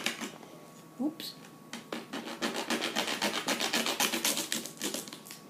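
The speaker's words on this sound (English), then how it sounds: "this is me sawing a peanut" A small blade rasps back and forth through a peanut shell in a steady series of close, scratchy strokes that speed up toward the end, with brief faint bumps early on.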